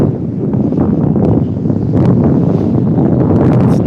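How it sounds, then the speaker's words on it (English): Steady, loud wind buffeting the microphone at a Brooklyn, New York City beach, a continuous roar with gusty swells and no talk. "It's nice and breezy."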